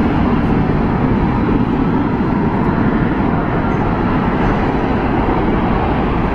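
An Airbus A380 airliner at Heathrow produces a loud, steady, broadband jet roar that holds constant throughout with no break, heard close and without voices.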